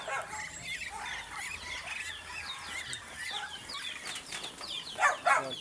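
A chicken clucks repeatedly at close range, its short calls layered over a steady outdoor background, with a couple of louder clucks near the end.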